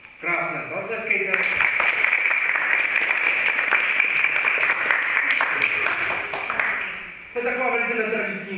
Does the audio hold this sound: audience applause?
yes